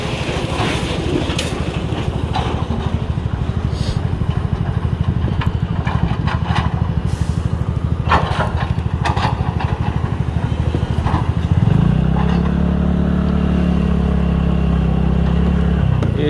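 A Kolhapur truck with Karnataka registration, hauling laterite stones along a dug-up, dusty road being widened, runs with a steady close engine chug that settles into a deeper, droning idle in the last few seconds, with no talk.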